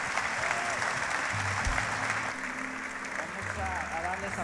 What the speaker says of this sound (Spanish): ¿por qué no le damos un aplauso a Dios por la vida del pastor Alfonso Flores?